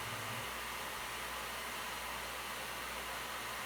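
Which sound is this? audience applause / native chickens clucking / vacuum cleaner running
vacuum cleaner running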